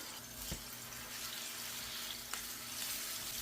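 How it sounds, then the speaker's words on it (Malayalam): Sardines frying in hot coconut oil in a pan, a steady soft sizzle with two sharper crackles, close and fairly quiet, with no talking. "എണ്ണ ചൂടായി വരുമ്പോൾ നമുക്കിതിലേക്ക് ഓരോന്നായിട്ട് മീനിട്ട് കൊടുക്കാം"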